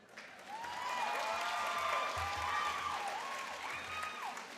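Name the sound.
audience applauding and cheering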